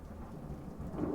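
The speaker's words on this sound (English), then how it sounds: "there's shit tons of thunder going on right now" Thunder rumbles through a tropical storm with steady rain underneath, a low continuous roll that swells toward the end, no voices present.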